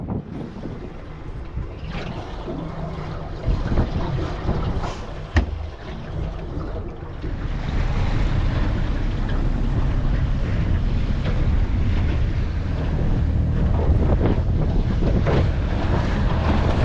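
An outboard-powered fishing boat runs over waves, its propeller spinning freely as it lifts clear and then biting the water again, so the loud engine roar surges and loads unevenly under heavy wind noise.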